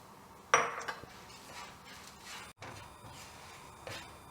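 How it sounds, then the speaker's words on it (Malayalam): Flattened rice (avil) is stirred as it roasts in ghee in a pan for payasam, with a sharp spoon-on-metal clink at the start, then softer scraping and a later knock, close and alone. "അപ്പം ഞാൻ ഈ അവിൽ ഈ നെയ്യിലിട്ട് നന്നായിട്ടൊന്ന് ഇളക്കിയെടുത്തിട്ടുണ്ട് കേട്ടോ"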